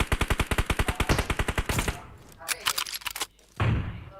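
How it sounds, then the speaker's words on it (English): In PUBG Mobile, a fast, regular burst of automatic gunfire rattles out for about two seconds, followed by scattered fainter shots and thumps. "Pancing, ku tembak dari sini."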